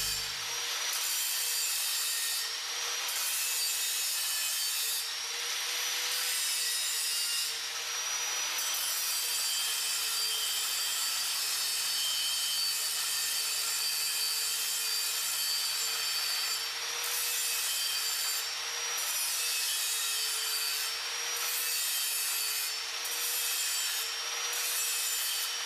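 Angle grinder abrading a weld point off a fixed vertical steel tube during butt-joint pipe work, a steady continuous high grinding tone with brief pauses and intensity shifts, close and loud throughout.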